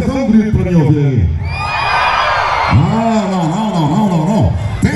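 Rodeo crowd at a night bull-riding event shouting and cheering together in a loud, sustained roar, with an announcer's amplified voice talking over it at the start and end.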